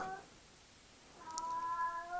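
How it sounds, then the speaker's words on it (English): A domestic cat meows faintly in the background of a room, one brief cry at the very start and a longer, drawn-out meow later. "And in the background you can hear my cat."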